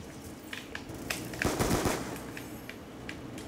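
Sentry gun firing in Black Ops 2, rapid automatic bursts with a dense cluster of loud shots in the middle and scattered sharper cracks around it, at moderate distance.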